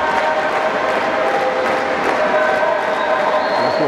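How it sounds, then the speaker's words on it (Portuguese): A crowd cheers and shouts steadily at an under-15 youth basketball semifinal between Tijuca Tênis Clube and Fluminense, a loud continuous roar of voices filling the gym throughout. "A torcida já tá aí animando."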